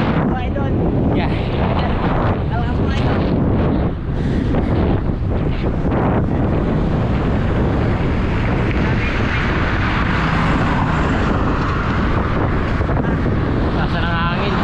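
Wind buffets the microphone on the road to Baguio via Kennon Road, a loud, continuous rumbling roar that runs for the whole stretch without a break.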